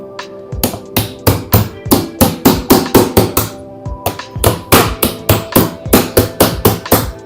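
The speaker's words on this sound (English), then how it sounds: "and then just use a hammer" A hammer bangs repeatedly against the bottom section of a mild hyperbaric oxygen chamber being knocked down, sharp loud blows in quick irregular bursts with a brief pause midway, close and alone without talk.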